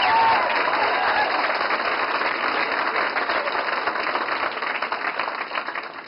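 An audience at a debate-style forum with a commissioner breaks into sustained, dense applause, loud and steady throughout before tapering slightly at the end, with no speech over it.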